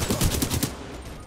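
Rapid automatic weapon fire in Titanfall 2, a quick burst of about six close, loud shots that cuts off into a fading tail.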